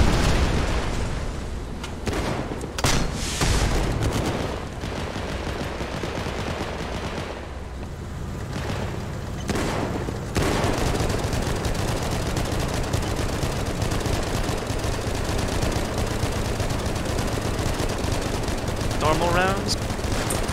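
A battle tank fires in a video game amid a chaotic battlefield: loud booming shots and bursts of rapid gunfire crowd the soundscape, with a couple of sharp blasts early and continuous combat noise throughout.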